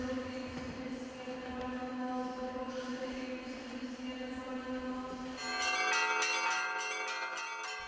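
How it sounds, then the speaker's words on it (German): Large cast-iron church bells of a Russian belfry ring with sustained, layered tones, and a louder, brighter clang of strikes swells in toward the end. "unter den riesigen gusseisernen Glocken, deren Tradition bis ins Mittelalter nach Rostow Veliki zurückreicht"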